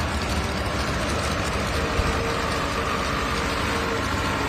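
John Deere tractor in an improved farm class tractor pull, a heavy engine roaring steadily and loud throughout, dense low-frequency drone without pauses.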